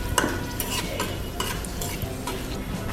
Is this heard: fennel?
yes